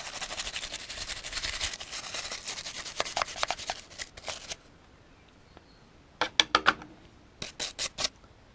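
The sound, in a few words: wire brush scrubbing a metal detector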